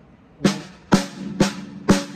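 Four crisp, evenly spaced drum strokes ring out alone at a slow, steady pace, each with a short resonant decay, as a drummer demonstrates an open roll.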